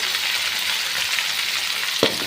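Onions frying in oil for ridge gourd sambar, a dense, steady, close sizzle throughout, broken near the end by a single dull knock.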